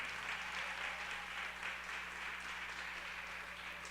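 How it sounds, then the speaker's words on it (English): A mayoral meet-and-greet audience in Houston County claps for the mayor, a faint, distant, continuous patter of applause over a low hum. "she deserves another round of applause"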